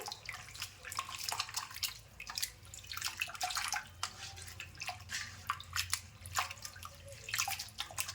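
Water swishing and splashing in bursts, with drips and sloshing as split moong dal is rinsed by hand in a bowl, close and fairly quiet.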